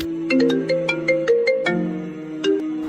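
A phone ringtone plays a repeating electronic melody of short bright tones in steady rhythm, loud and close, while a call is placed to a manager at a building site, with no talk over it.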